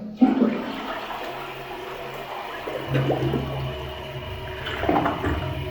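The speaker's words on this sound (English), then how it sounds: "you want to give it a second flush to ensure it's fine" A newly installed toilet on a bowl flange is flushed a second time: a close, steady rush and swirl of water runs for several seconds, with gurgling as the bowl drains and refills.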